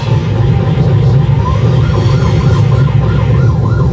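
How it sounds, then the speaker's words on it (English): A wailing emergency siren from an arcade driving game, a rising and falling electronic whoop heard over loud, rumbling engine and game noise that dominates the low end, steady and close throughout. "Listen to the siren."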